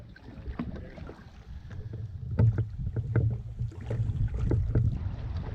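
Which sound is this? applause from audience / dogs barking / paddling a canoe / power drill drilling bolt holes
paddling a canoe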